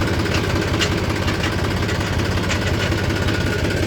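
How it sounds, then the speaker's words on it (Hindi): A vehicle engine runs slowly in second gear with a steady, continuous low rumble and drone that does not vary, and no voices are heard. "दूसरे गियर में चल रहा है आराम आराम से"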